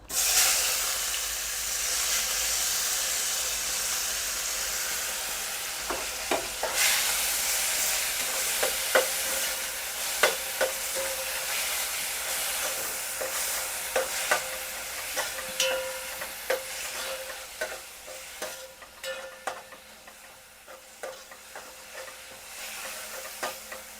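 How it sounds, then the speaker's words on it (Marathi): Grated onion hits hot oil with asafoetida, bursting into a loud hiss that slowly settles into a gentler sizzle, punctuated by repeated scraping taps of a spatula as it is stirred. "तर सुरुवातीला आपण कांदा घालूया."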